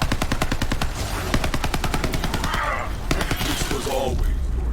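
Rapid automatic gunfire from a weapon in the video game Borderlands 3 rattles nearly nonstop, loud and close, with a few brief pauses and faint voices talking underneath the shooting.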